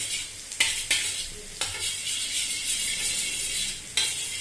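An egg bhunji mixture is stirred while it fries in a pan: a soft, continuous sizzle broken by several sharp spatula scrapes and clacks against the pan, close and fairly quiet, with no talking.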